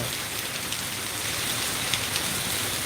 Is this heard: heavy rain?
yes